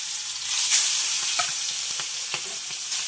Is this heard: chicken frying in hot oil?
yes